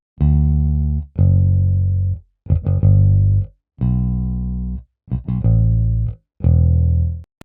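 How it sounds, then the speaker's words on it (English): Electric bass, a Rickenbacker played through the Waves Voltage Amps Bass Peak Bass patch, plays seven sustained notes with short gaps between them. The tone is loud, thick and slightly driven, and no voice is heard. "There was a patch called Peak Bass and I tweaked some settings and it sounds like this."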